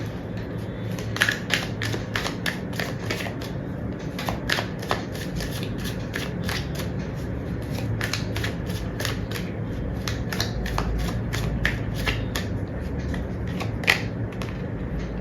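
Tarot cards shuffled and drawn by hand, with rapid riffling and flicking bursts of crisp card slaps and shuffles, close and busy for the whole stretch, with no voices.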